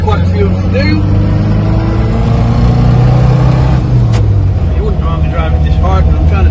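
A 1958 Morris Minor 1000 saloon climbs a steep hill in first gear, its engine a loud, steady, droning growl that holds under load and shifts pitch slightly as it pulls.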